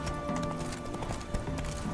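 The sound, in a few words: horse Roach galloping in The Witcher 3 video game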